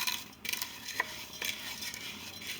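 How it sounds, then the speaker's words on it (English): Rice frying in a pan for enchilada rice pilaf, stirred with a utensil, giving soft continuous scraping and light clinks over a faint sizzle, close and fairly quiet. "I like to stir it constantly."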